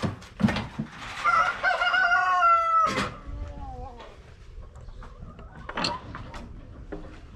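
Pet quails in their cage give a run of loud, close bird calls with tonal, stepped chirps and clucking, followed by shorter calls and a few sharp bursts, with no talking.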